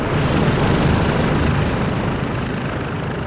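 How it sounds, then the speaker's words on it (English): A helicopter approaches in Call of Duty Modern Warfare 2, a loud, dense rotor rumble that holds steady and close throughout. "Got a heli incoming."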